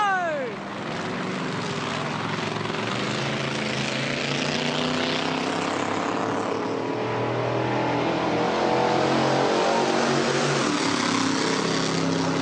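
A 1000-horsepower JCB backhoe engine revs hard at the 2014 Bathurst 1000 racetrack, a loud, steady, roaring drone that holds for about twelve seconds with background voices around it.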